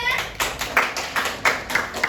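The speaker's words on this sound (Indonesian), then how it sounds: "Boleh minta tepuk tangannya?" A classroom of students clapping hands together after a group presentation, a loose patter of claps with a few sharper accented hits, close by and moderately loud.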